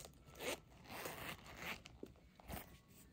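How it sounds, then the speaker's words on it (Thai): A DKNY wallet's zipper is pulled open and shut in quick, close rasping strokes, a few crisp zips in a row with small handling clicks between, no voices. "แล้วซิปนะซิปนี่แบบรูดปื๊ดรูดปื๊ดนะคะง่ายมากทุกคน"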